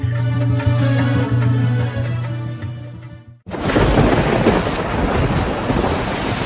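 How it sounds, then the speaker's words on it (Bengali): A humming tonal sound cuts out abruptly, giving way to a dense, steady hiss of heavy rain pouring outside. "দেখো না, বাইরে কেমন বৃষ্টি হচ্ছে"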